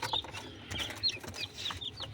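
Newly hatched chicks of mixed breeds, including Denizli and village chickens, give thin, high, scattered peeps that overlap in a steady chorus nearby, with no talking.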